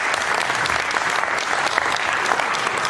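A talk-event audience claps in a steady, dense burst of applause, evenly loud throughout the short stretch with no voices standing out.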